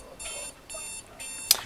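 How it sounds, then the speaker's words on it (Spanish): Electronic alarm clock beeping in the car-building video game Jalopy, three bright repeated bursts in quick succession, fairly loud and close, ending with a sharp click. "Soy el despertador."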